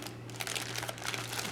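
A plastic bag crinkles in steady, close rustles while a Sig Sauer P365 polymer-frame handgun is taken out during an unboxing, over a low constant electrical hum.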